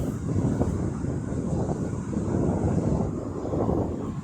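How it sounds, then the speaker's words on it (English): A Boeing 737 taking off near Birmingham Airport makes a steady, broad roar heard from a distance, blended with wind buffeting on the microphone and no distinct events. "Seems like we're getting lots and lots of 737s taking off."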